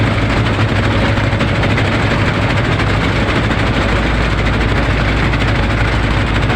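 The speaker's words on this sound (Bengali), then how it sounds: "ওইটা হলো যাত্রীবাহী লঞ্চ।" Passenger launch on the Jamuna river, its engine a loud, continuous low rumbling drone with dense mechanical chatter, close and unbroken, no voices.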